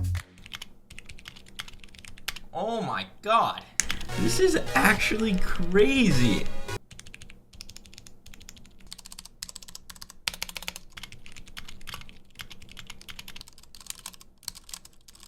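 Rapid clacky typing on a mechanical keyboard, crisp and close, with a voice speaking excitedly partway through before the keystrokes continue alone.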